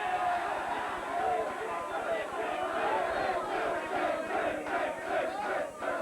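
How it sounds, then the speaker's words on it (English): A studio audience on a 1986 Wally George talk show loudly boos and jeers, a sustained crowd roar of shouting voices that holds steady throughout. "They boo me, they boo America, Wally."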